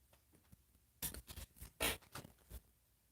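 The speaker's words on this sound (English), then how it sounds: "As the cat walks across the treats in the background." Soft patter and small crinkling steps as a cat walks across a spread of pet treats, a few quiet rustling bursts in the middle of the clip.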